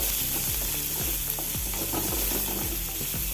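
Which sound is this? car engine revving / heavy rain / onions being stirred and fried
onions being stirred and fried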